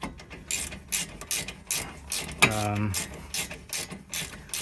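A ratchet clicks in quick bursts while loosening a bolt during a front rotor install on a Mazda Miata, close and crisp, with a brief metallic ring midway.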